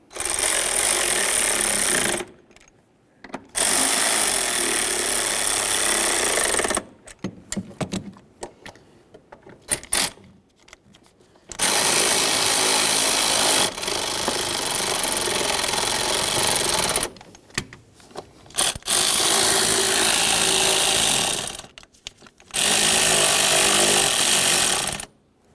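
A power tool snugs bolts on a 1998-2011 Ford Ranger HVAC blower motor assembly, running in several loud sustained bursts of a few seconds each, separated by brief silences and quieter handling clatter.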